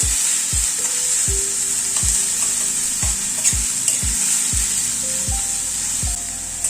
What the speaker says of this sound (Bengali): রসুনটাকে একটু লাল করে ভেজে নিতে হবে।